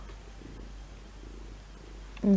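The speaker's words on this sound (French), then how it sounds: "Et ça ronronne, dis donc." A cat purrs softly and steadily up close, a low continuous rumble, before a voice cuts in at the end.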